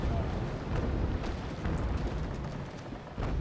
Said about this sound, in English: I think I'm gonna use my starboard side guns.